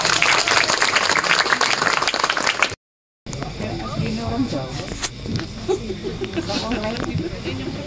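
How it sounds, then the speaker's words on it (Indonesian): Dense audience applause, loud and close, breaking off briefly before continuing as a crowd noise under someone speaking. "Tepuk tangan."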